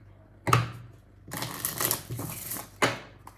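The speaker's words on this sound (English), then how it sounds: "Shuffling for Pisces for the month of May" A deck of cards riffled and shuffled close by in a few quick bursts, with short pauses between the papery rustles.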